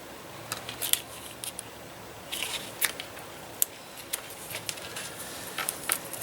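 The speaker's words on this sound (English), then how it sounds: "we're just going to run some score tape down through here, across the bottom" Score tape being run and pressed onto a note card wallet, giving faint, intermittent crinkly crackles and short sticky peeling ticks scattered across a quiet close-up background.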